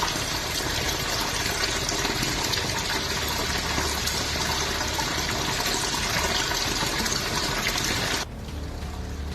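Contaminated, dirty water gushes from a municipal supply line in Indore, a loud, continuous splashing rush that cuts off abruptly near the end, leaving a quieter hum; no speech.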